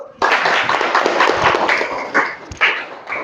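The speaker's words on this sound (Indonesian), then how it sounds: "Ya, tepuk tangan dulu." A class of students applauds together in a classroom, a dense burst of clapping that starts suddenly and carries on steadily for about three seconds, with a few louder swells near the end.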